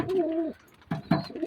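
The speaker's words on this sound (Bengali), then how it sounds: "এই কবুতরটা এখন কেমন লাগছে, ডাক ধরে গিয়েছে, পাট্টা কবুতর" A pet pigeon gives two short, throaty coos close by, separated by a brief pause.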